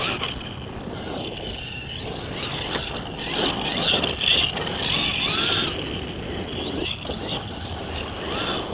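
A Kyosho Mad Van VE 1/10 scale RC monster truck on a 2S battery drives continuously, its electric motor whining steadily with rising and falling pitch, fairly close, no talking.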